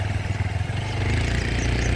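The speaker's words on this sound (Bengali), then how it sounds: "বাইক নিয়ে চলছি" A motorcycle ridden up a broken, rough hilly road, its engine droning steadily and close with rattling clatter throughout.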